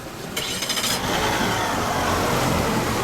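An outboard engine lashed to a boat's transom fires up and settles into a loud, rough running roar close by, with a brief sputter as it catches.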